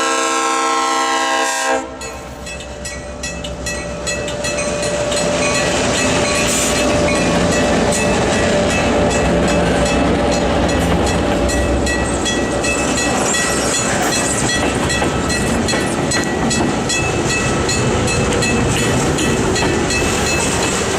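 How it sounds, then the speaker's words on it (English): A freight train on the Iowa Southern shortline railroad near Albia, Moravia and Centerville starts up after a brief quiet moment, with loud, continuous horn blasts over the rolling rumble and clatter of the moving cars. "it's time for the train to begin the trip south towards Relco"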